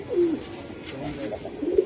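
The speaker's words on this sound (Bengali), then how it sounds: "এটা নর একটা নর কবুতর" A male giribaj pigeon coos in low, throaty phrases near the start and again near the end, with faint background noise in between.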